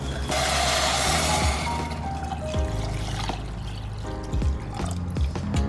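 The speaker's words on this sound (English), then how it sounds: "before now adding your water." Water poured into a one-pot Asian-inspired chicken stew with brown rice, a steady splashing pour running for several seconds at close range, with faint kitchen clatter and no talking.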